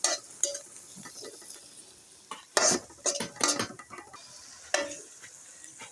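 Radish, dried fish and eggplant being stirred in a frying pan, with a spoon scraping and clinking against the metal in bursts over a soft sizzle, close and moderately loud.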